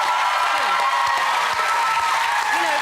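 Studio audience at a televised talent show breaks into steady applause, a dense wash of clapping that holds at an even level for a few seconds, with a voice speaking over it.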